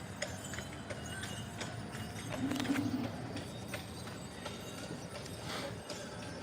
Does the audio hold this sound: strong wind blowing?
no